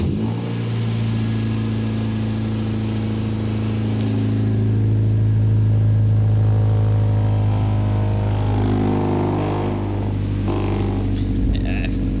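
A Honda Civic fitted with a new aftermarket exhaust bought on eBay fires up for the first time, settling into a steady, close, throaty idle drone with a slight swell midway.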